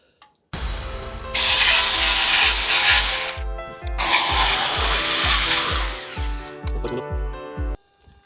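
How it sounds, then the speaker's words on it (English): A jigsaw cutting out a panel for a homemade sandblasting cabinet: a loud, close buzzing roar with a fast reciprocating pulse, in two long bursts separated by a brief dip, then stopping abruptly. "we'll jigsaw it out now, the jigsaw."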